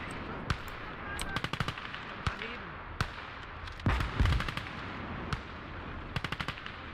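Bursts of gunfire from a World War II battle in the video game Call to Arms: Gates of Hell, with sharp shots and rapid volleys over a rumbling backdrop and a heavier blast near the middle, fairly loud throughout.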